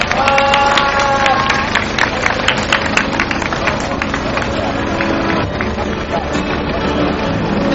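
Crowd applause at a Sewol ferry bereaved families' rally in Korea, loud, steady clapping from a gathered crowd with some cheering, continuing throughout with background voices mixed in.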